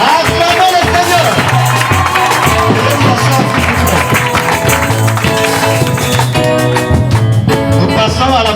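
Wedding congregation at a church ceremony clapping and cheering loudly in rhythm, with music playing along throughout and crowd voices mixed into the steady clapping.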